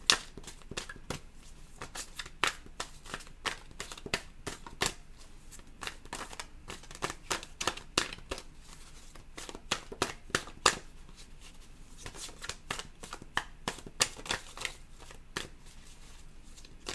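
Tarot cards are shuffled over and over in quick crisp riffles and taps, close and clear, with no talking.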